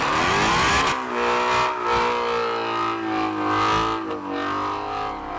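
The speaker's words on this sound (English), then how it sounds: "packing a high-revving, dual overhead cam, flat-plane crank V8." A Chevrolet C8 Corvette Z06 with a high-revving dual overhead cam flat-plane crank V8 screams at high rpm, a loud sustained wail that rises sharply at first, then holds and wavers as the revs climb and ease.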